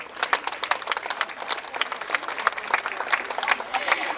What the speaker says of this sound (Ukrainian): Шановні гості, привітайте, будь ласка, наших почесних гостей своїми оплесками.